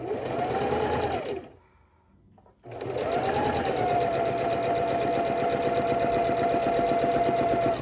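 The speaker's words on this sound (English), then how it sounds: "now we're going to stitch a 1/4 inch on either side of this line" A sewing machine runs a steady quarter-inch seam through a quilt piece for a king-size quilt, a continuous whirring drone that stops briefly for about a second, then resumes and hums on evenly, close and fairly loud.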